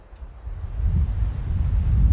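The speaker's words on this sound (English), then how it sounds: "it's just so doggone windy" Low, rumbling wind buffets the microphone outdoors at a campsite, rising from quieter gusts into a steady, heavy roar.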